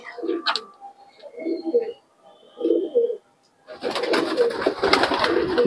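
Domestic pigeons at a pigeon sale in Murshidabad give several soft, low cooing phrases in a row, followed by a louder burst of mixed flutter and background noise.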